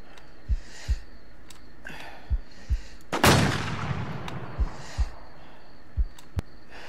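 A single loud sniper rifle shot from the video game Warz rings out midway and decays into a long echoing tail, set against faint ambient noise and scattered soft thumps before and after.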